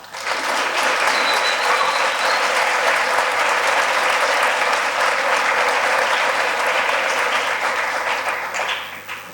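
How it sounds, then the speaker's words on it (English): Dense, sustained applause from a large crowd fills a school hall at a high school sports awards evening, loud and steady for about nine seconds before tapering slightly at the end. "I think another round of applause is not undue."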